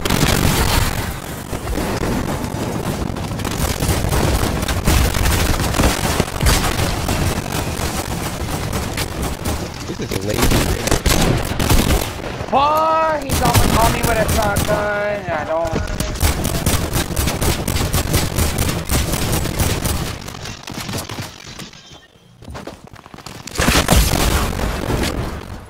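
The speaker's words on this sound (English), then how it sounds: "We got people shooting at me." Gunfire in a shooter video game: dense, nearly continuous bursts of shots and booms run throughout, with a short dip near the end, and players talk and shout over the action.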